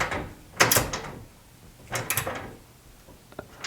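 A Gearwrench pass-thru ratcheting wrench works a nut in two short bursts of quiet metallic ratcheting clicks, close and faint, separated by near silence.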